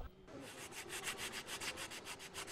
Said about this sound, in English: The restorers now need only apply a finish sanding to the most distinctive feature of the columns, the fluting.